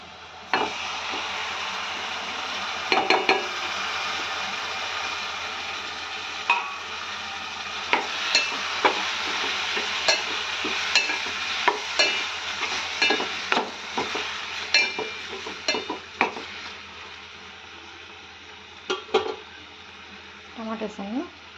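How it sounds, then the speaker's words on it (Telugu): Tomatoes fry in a pan for egg curry with a steady sizzle, while a spoon stirs and clinks against the metal in scattered, irregular strikes. "ఇప్పుడు వచ్చేసి టమాటా వేస్తున్నాను"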